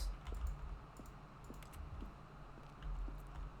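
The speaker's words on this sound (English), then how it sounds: "Each sound is a mix of a keyboard stroke and a synthesized tone." Button presses from The Stanley Parable video game, each a keyboard stroke blended with a synthesized tone, come as a quick run of faint clicks and taps over a low background hum.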